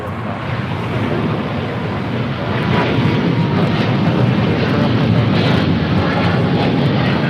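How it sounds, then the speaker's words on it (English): Philippine Airlines Boeing 777-300ER heavy jet taking off from LAX for Manila: a loud, sustained engine roar that swells and holds strong through the clip, with no talking. "This is Philippine Airlines 113 Heavy taking off to Manila"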